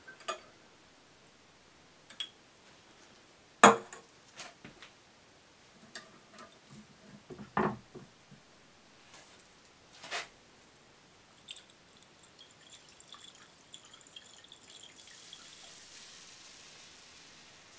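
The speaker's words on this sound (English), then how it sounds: "The fizzing is the carbonates reacting with the acids, releasing carbon dioxide." Sodium carbonate solution fizzing as it reacts with ethanoic and sulfuric acid in an ester distillate, a sparse scatter of faint ticks and small pops, some louder crackles, quiet and close with no speech.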